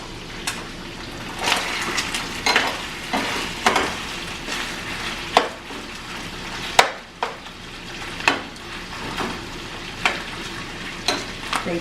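Pork adobo fries and sizzles steadily in a pan, with repeated stirring scrapes and clatters cutting through the continuous crackle, close and alone without talk.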